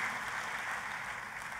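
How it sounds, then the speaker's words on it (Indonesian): A church congregation applauds, a steady wash of many hands clapping that holds at an even level throughout. "Tepuk tangannya yang paling meriah buat Tuhan kita"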